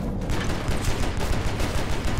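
Rapid gunfire from the John Woo Stranglehold video game, with dense bursts of shots hammering steadily for about two seconds, loud and continuous with no talking.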